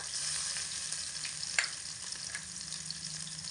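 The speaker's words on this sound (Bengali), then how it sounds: "সমস্ত কিছু এক মিনিট মতো হালকা নাড়াচাড়া করে নেব" Spice pastes of cumin, ginger and chili with chopped green chili fry steadily in a pan, a continuous close sizzle with light scraping as they are stirred, no voices.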